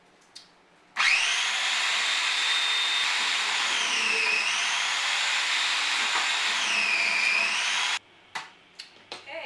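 A food processor whirs loudly and steadily while shredding green papaya and carrots, its motor pitch dipping briefly under load before it cuts off, followed by a few small clatters.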